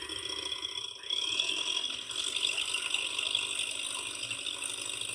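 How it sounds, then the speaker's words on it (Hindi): Eggs being beaten with sugar for a peanut sponge cake in a blender, a steady whirring mechanical rattle running evenly throughout, close and fairly loud with no voices. "अब हम अंडों को बीट करना शुरू करेंगे और साथ साथ इसमें चीनी मिक्स करते जाएंगे"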